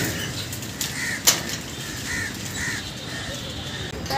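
A crow caws outdoors in a few spaced, moderately distant calls over a constant hiss of ambient noise.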